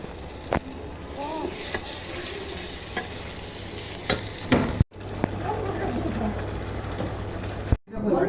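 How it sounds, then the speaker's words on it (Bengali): Spices frying for a chicken dish in a home kitchen, a continuous soft sizzle with scraping stirring strokes and a few sharper clinks, while a voice is faintly heard in the background. "চিকেনের জন্য এখানে মশলা কষা হচ্ছে"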